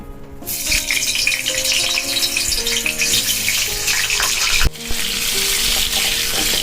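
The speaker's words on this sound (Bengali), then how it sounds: "এবার আমি আলুগুলোকে ভেজে নেব, ওই তেলেই আমি আলুগুলোকে ভেজে নেব।" Potatoes frying in oil left over from frying onions for a Bengali mutton curry, a loud continuous sizzle with scraping stir sounds and a sharp clatter partway through, no voices.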